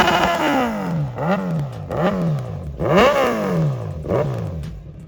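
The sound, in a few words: Kawasaki Z900 motorcycle full system exhaust revving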